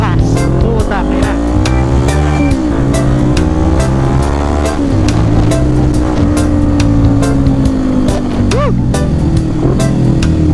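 A Kawasaki Ninja motorcycle ridden at speed, its engine loud and close, rising and falling in pitch through several gear changes, with wind rush and a rider talking over it.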